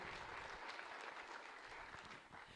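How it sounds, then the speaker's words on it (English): Audience of principals and educators at the Clark County School District State of the Schools address applauds, a steady, fairly faint wash of clapping from the crowd throughout. "Round of applause"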